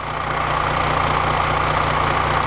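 A Mercedes 320 CDI V6 diesel idles steadily during an automatic gearbox oil change, a loud close-up hum with a constant low drone and faint knocking texture, unbroken throughout.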